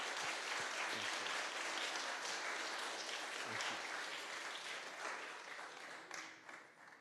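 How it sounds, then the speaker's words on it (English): Sustained applause from an audience at an entrepreneurship innovation challenge final, a dense wash of clapping holding steady for several seconds before thinning out near the end. "if we could have a round of applause for a perennial supporter, Bud Robinson"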